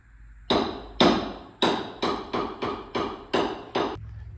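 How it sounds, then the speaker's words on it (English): A hammer strikes metal nine times in quick succession during a Jeep Cherokee axle build, each blow sharp and ringing, loud and close with a slightly uneven rhythm. "Down with the hammer."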